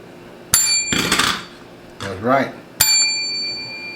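A bright bicycle-style bell rings twice with long metallic ringing tails, a notification chime for a channel subscription, separated by a voice speaking in between.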